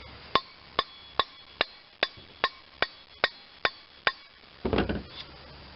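A soft-face dead blow hammer strikes the bearings on a John Deere 318 50-inch mower deck in ten sharp, evenly spaced blows, followed by a brief rougher scraping noise.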